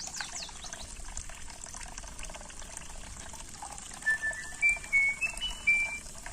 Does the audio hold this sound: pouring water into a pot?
yes